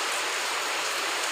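Steady rain falls in a continuous even hiss, close and fairly loud, with no voices over it.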